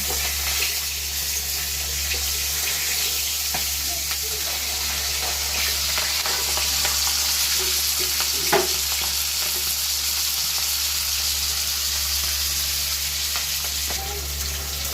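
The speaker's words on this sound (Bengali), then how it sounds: "মাথা আমার ভাজা হয়ে গিয়েছে" A fish head fries in oil in a pan, giving a steady, dense sizzle that stays even from start to finish. It sounds close and fairly loud, with a low hum underneath and an occasional faint clink.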